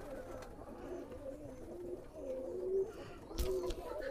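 Soft, low pigeon coos repeat in a Teddy pigeon loft, over a murmur of background voices and a sharp clatter toward the end.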